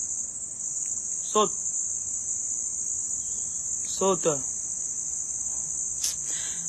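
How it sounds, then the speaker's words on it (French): Cricket chirping with a loud, steady, high-pitched trill throughout, close by, while someone speaks briefly over it a few times. "Un faux grillon comme ça, là, il ne saute même pas bien."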